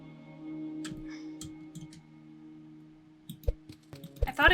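A few sharp, light mouse clicks land sporadically while building in the survival crafting game Commonhood, set against a low steady game hum, with a busier burst of clicks and game sounds near the end.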